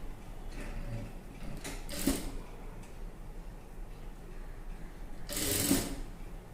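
A sewing machine stitches piping onto the neck of a thin cloth blouse, running quietly as a soft, rapid mechanical patter with two short louder bursts of rustling fabric handling.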